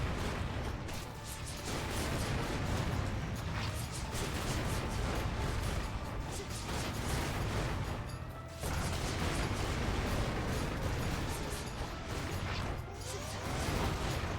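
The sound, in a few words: explosions in the video game Hades II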